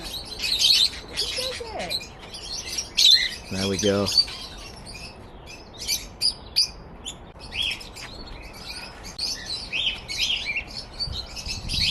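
Budgies chirp and chatter steadily in high, busy twitters inside a cafe in Leeds, with a brief voice speaking partway through.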